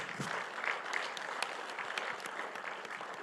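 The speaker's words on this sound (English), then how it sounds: "Chairwoman Mallory, if you'd please give her a round of applause." An audience at the 2022 White House Tribal Nations Summit claps in a steady, even wave of applause that lasts a few seconds.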